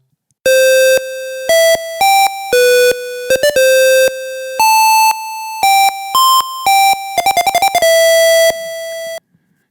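Mozart melody played as an 8-bit square-wave chiptune, each note sounding alone with stepped volume drops that mimic echo, including rapid trills of short notes, loud and clean.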